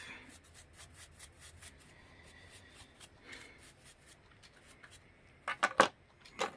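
A freshly laser-cut replacement key, just taken out of its clamp, is wiped clean with a run of quiet, rhythmic rubbing strokes, ending in a few sharper scraping clicks.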